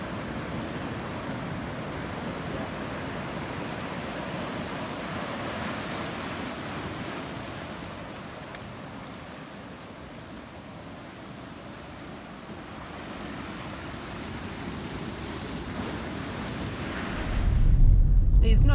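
Ocean waves closing out and breaking on a beach on Panama's Azuero Peninsula, a steady roaring wash of surf with wind buffeting the microphone, swelling louder near the end.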